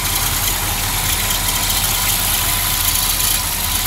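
A 1970 Dodge Monaco V8 engine idles steadily after its valve covers were resealed, giving a continuous low rumble with a faint rhythmic pulse under broad mechanical hiss and no voices.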